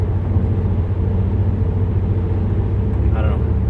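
A car being driven around the block, giving a steady low engine and road rumble from inside the cabin, with someone talking over it.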